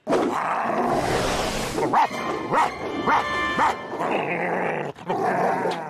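A small dog in the animated series Magic la famille féerique barks four times in quick succession, loud and close, amid other cartoon sound effects.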